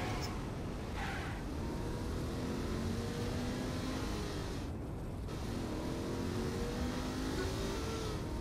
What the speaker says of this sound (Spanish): Ya, derrape.